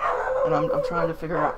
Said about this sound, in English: I'm so sorry that my dogs are going bananas.